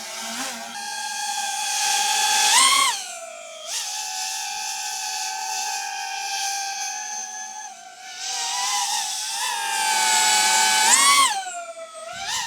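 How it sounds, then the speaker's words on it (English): A loud, high-pitched whine from a DJI Avata 360 drone holds steady, then swoops up and down in pitch as it maneuvers. "that's where you get that super high pitch, annoying noise"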